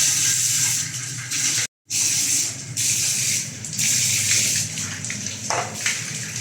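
Steady hiss of running water, like a shower spraying, continuous with a brief cut partway through and no voices.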